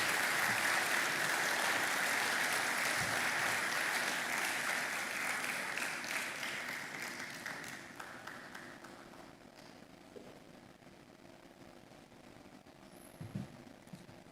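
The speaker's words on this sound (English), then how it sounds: "Please, let's keep clapping till she's well settled." An audience at a retail congress gives sustained applause after a talk. It is loud and dense at first, then gradually thins into scattered claps with a few knocks and bumps as the room settles.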